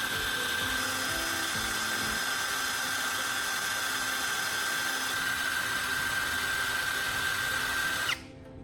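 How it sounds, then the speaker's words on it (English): An electric drill spins a carbon rod while it is sharpened against sandpaper, a steady whining hum with a faint scraping texture running continuously for several seconds before cutting off abruptly. "I am mounting the carbon rod to the electric drill. I will sharpen it with sandpaper to make it sharp for a precise welding tip."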